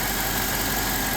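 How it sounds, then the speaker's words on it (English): The engine of a 2005 BMW 745Li idles while it warms up, a steady, even hum with constant vibration and no change in pitch. "Engine's starting to warm up a bit now"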